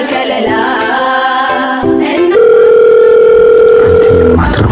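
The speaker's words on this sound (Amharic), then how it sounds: "ዛሬ ምን ሆነ ደግሞ ስልክ የሚዘጋው?" Telephone dial tone after a call is hung up: a steady electronic tone sounds alone, shifts pitch partway through and then holds loud and continuous.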